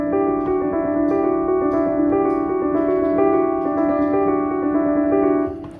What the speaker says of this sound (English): do you remember this is the one I was going to turn down in volume and put the sustain pedal on? It sounds a bit like this.